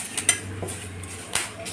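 A kadhai pan is lifted off a gas stove, giving a few light metallic clinks and scrapes up close against a quiet kitchen background.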